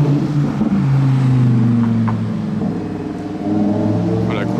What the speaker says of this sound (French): Celle-ci, elle a un échappement.